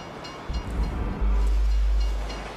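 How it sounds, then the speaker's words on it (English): A train rumbles past in Grand Theft Auto V, its loud low roar rising abruptly and holding steady before slowly easing off, with no talk over it. "you'd know the train comes by right now."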